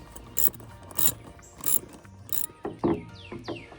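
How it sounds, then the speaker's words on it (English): Metal wrench tightening hose clamps on the silicone cold-side intercooler hose of a Ford F250 6.7 Power Stroke, a series of short ratcheting clicks and metallic scrapes in separate bursts, close up. "I proceeded to tighten the hose clamps"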